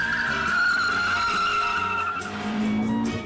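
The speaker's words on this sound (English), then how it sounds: "First to go is Richard's GTI." A Volkswagen GTI hatchback is driven hard around a test track. Its tires let out a long, loud squeal while the engine drones underneath, falling and then rising again as the car slides through the corner.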